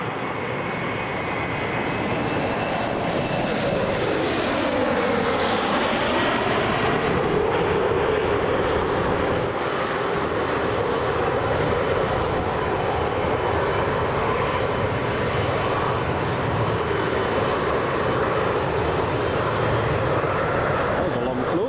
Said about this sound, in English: So Emirates just taxiing.